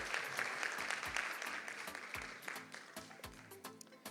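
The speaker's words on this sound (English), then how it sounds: "Give her a rousing round of applause." Scattered audience applause at a Christmas dinner and awards night, fairly quiet with distinct individual claps standing out, thinning toward the end.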